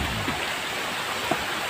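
A small waterfall beside a rural village road gives off a faint, continuous rush of falling water with no talk.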